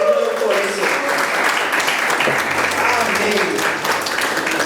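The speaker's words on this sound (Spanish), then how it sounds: "¿Cuántos pueden dar un aplauso al Señor por eso?" A church congregation claps together in sustained, steady applause to the Lord, with a Spanish-speaking pastor's voice speaking over it partway through.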